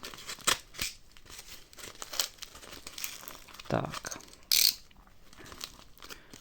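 A parcel is unwrapped from a garbage bag, tape and a zip bag, producing close, irregular bursts of plastic crinkling, tearing and rustling, with one short spoken word in between.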